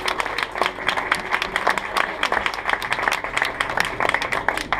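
An audience at a French stand-up comedy show applauds a volunteer called up on stage: steady, dense clapping from a crowd that fills the whole stretch at an even level.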